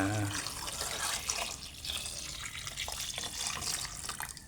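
Pure coconut milk poured into a cassava dish with a little salt already added, a close, steady liquid pour with splashy texture lasting a few seconds, fairly loud and continuous.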